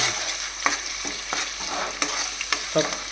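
Spice paste sizzles in hot tempering oil for a fish curry while a spoon stirs it in a pan, with soft scraping strokes over a steady fry and no talk.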